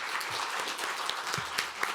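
Applause from the audience at a women's business policy debate forum, steady broadband clapping at moderate level throughout this short stretch.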